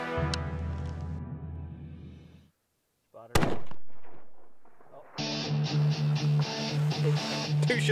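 A rifle shot at tahr during a mountain hunt: one sharp, loud crack with a ringing decay, set between stretches of music.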